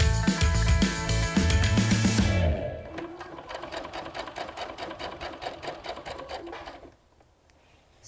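A sewing machine stitches an elastic join, running in a loud, rapid steady burst, then stitching on more lightly with a rhythmic patter before stopping near the end.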